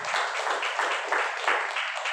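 An audience claps together in a brief, steady burst of applause at a seminar on paying off debt, dense and moderately distant.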